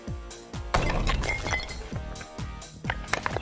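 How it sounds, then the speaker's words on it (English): A sledgehammer strikes Tack glasses again and again, each blow a loud, close, sharp crash with ringing glassy clinks and a shattering rattle, about six impacts in a steady rhythm. "what about smashing them with a sledgehammer?"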